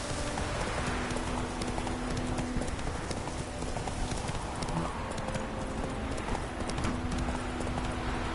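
Hooves of the horse in The Witcher 3 clip-clop steadily and close throughout, with a faint whinny and game ambience behind them and no talking.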